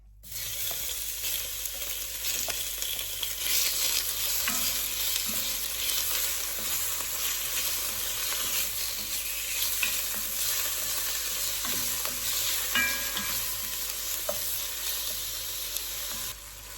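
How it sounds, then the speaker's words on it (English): Stewing steak browning gently in melted lard in a pan, a continuous close hiss and sizzle with occasional faint scrapes and no voices. "Brown the stewing steak gently"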